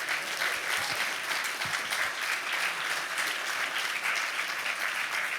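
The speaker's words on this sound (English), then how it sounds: "a round of applause for Mr. Lee." Warm, sustained applause from an audience at a cooperative hall of fame induction ceremony, steady clapping filling the room for several seconds with no speech.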